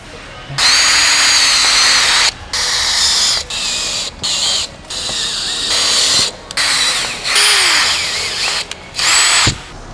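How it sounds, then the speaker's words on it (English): A power drill whirs in repeated bursts, drilling pilot holes into a vehicle bumper, stopping and starting about a dozen times, loud and close with brief pauses between each run. "Then we can drill some pilot holes and bolt it to the bumper."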